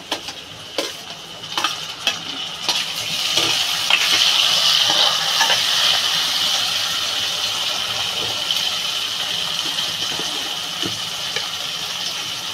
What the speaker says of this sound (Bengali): এবার আমি দিয়ে দেবো এই টমাটোর কুচিটা